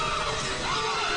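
A woman screams in horror at a stage fire-breathing stunt gone wrong, a performer's face engulfed after spitting too much flammable fuel at torches; a loud, sustained, strained cry with crowd noise behind it.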